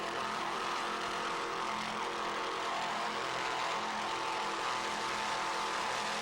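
Three 1,000-horsepower Mercury inboard engines power racing superboats in a constant, loud, broadband roar that holds steady throughout with no voices.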